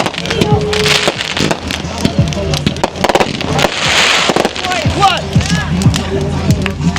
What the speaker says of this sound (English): Fireworks going off.